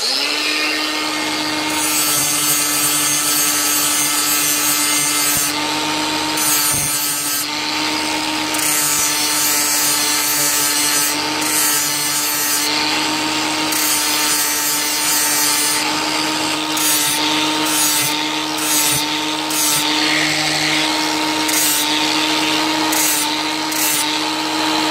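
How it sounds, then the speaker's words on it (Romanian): An angle grinder fitted with a flap disc sharpens a lawn mower blade, a loud continuous whine with steady grinding rasp close up, pitch holding throughout with brief shifts in contact, no voices. "cât de simplu se poate ascuți un cuțit pentru mașina de tuns iarbă, folosind un flex, un disc din asta lamelar"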